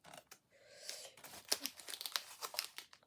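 Paper receipt handled and crinkled close up, a quiet run of soft rustles and crackles with small sharp crinkles scattered throughout.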